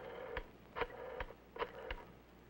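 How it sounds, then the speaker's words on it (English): An old film telephone being dialed with a code number, five short clicking pulses spaced irregularly, quiet and close, with no talking. "Flip the switch button, then dial a code number and the number you want."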